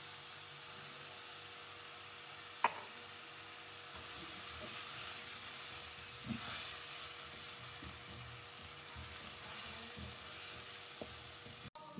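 Onions sautéing in oil in a pan for aloo chicken give a faint, steady low sizzle with occasional small ticks and clinks, close but quiet, without any talking.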